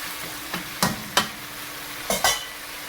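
Pinakbet vegetables sauté with fish bagoong in a pan, with several distinct stirring scrapes over a steady background sizzle, close up and without talk.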